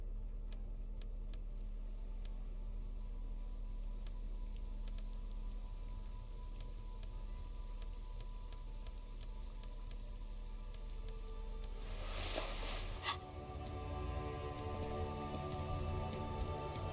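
Steady rain falls in the Disco Elysium game, a constant soft hiss of drops at an even level, with a brief louder burst near the end.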